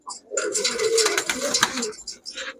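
Fancy colored pigeons coo in a close, throaty burst of low warbling, mixed with fluttery rustling and a few short higher noises, fading near the end.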